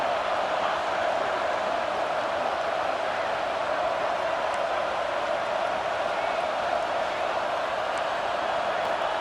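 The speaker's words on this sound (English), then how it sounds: "this crowd is fired up. Listen to this noise here." Steady roar of a large college football stadium crowd in a video game, a continuous dense wash of noise without breaks.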